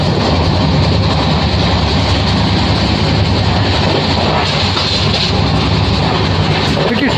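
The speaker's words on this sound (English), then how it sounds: "See the speed of the train." The Okha–Nathdwara train roars past at speed between Dwarka and Ahmedabad, a steady loud rush of wheels and wind with no pauses, close by throughout.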